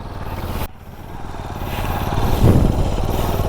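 Motorcycle engine running steadily during stunt practice, a close idling-to-revving drone with a brief dip near the start, then rising louder as the bike slows under braking.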